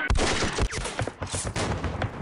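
Rapid bursts of gunfire from a machine gun team in the Rising Sun, Fall of the Philippines war game, dense and continuous with sharp repeated cracks over a loud rumbling battle bed.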